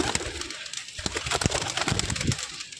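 Pigeons coo repeatedly in soft, throaty bursts on a rooftop garden, with a scuffling, bustling background of birds moving close by.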